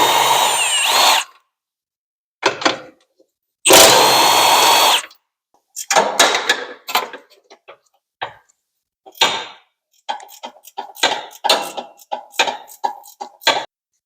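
Power tool bursts, an impact wrench or drill on the steering rack bolts of a 2006-2008 Toyota RAV4, come loud and up close in several short runs separated by pauses, with clicking tool handling in between.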